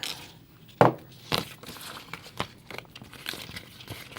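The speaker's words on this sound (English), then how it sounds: "I'm just going to roll this up on itself together" A sheet of planner stickers is rolled up on itself, with crisp close crinkling and papery crackles, a sharper crumple near the start, then softer rustling and no talking.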